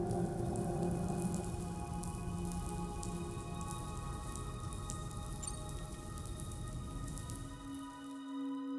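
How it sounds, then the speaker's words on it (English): Rain falls steadily in the video game Death Stranding 2, a soft, continuous patter of drops over a low ambient hum that eases slightly toward the end. "Those raindrops are falling on my head."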